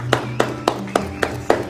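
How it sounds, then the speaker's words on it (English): Scattered neighbours clap from balconies and open windows in a residential street, about six sharp, evenly spaced claps echoing at a moderate distance over a low steady hum. "so here they are outside of the balcony and their windows clapping"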